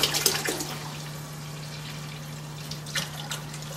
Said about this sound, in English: so it's a total of 3 gallons of hot water just from the tap